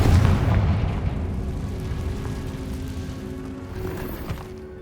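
The Confringo fire spell in Hogwarts Legacy blasting inside a ruined cave, a loud booming explosion at the start that rumbles and decays over several seconds, with no talk over it.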